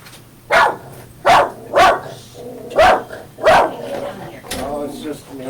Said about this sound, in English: You commenting on the barking?